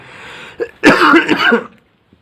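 A single loud, close cough with a throat-clearing rasp, followed by silence.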